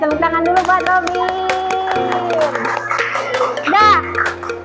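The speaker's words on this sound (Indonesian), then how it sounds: "Oke, tepuk tangan dulu buat Robin." Schoolchildren in an elementary classroom clap for a new classmate, a short burst of hand claps mixed with children's voices and a strong adult voice speaking throughout, close and lively.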